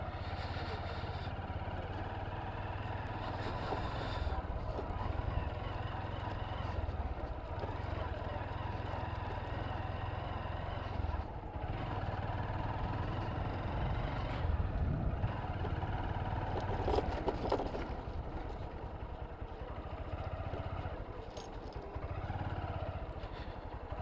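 A motorcycle ridden slowly along a muddy, foggy off-road dirt track in hill country, its engine a constant low drone close by with wind rumble, occasional bumps and intermittent talk.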